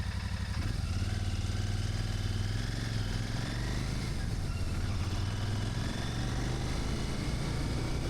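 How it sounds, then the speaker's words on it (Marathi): A Royal Enfield-style Super Meteor 650 motorcycle engine, cold-started early in the morning, runs at a steady, loud, throbbing idle throughout, with a dense low rumble and no talk over it. "आपण थोडं कोल्ड स्टार्ट करू आणि आपण स्टार्ट करू राईड"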